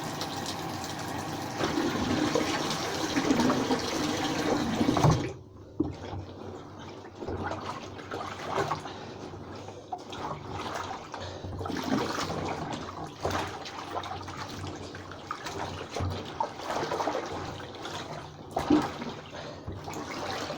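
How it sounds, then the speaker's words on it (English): Items are rinsed in dirty water, with a burst of loud, rushing, splashing water for about five seconds, then steadier, quieter sloshing and trickling that continues to the end. "So these are being rinsed off now, and the water's almost as dirty"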